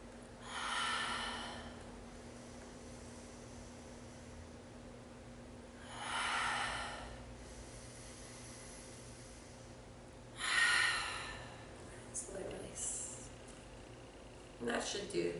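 Slow yoga breathing, in through the nose and out through the mouth, with three long airy exhales spaced several seconds apart over a faint steady hum, followed by a few shorter breath sounds and rustles.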